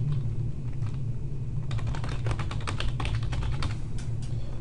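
Steady keyboard typing, close by, with quick irregular key clicks over a faint low background hum.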